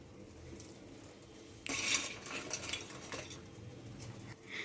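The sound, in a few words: adding fried chicken pieces onto cooked biryani rice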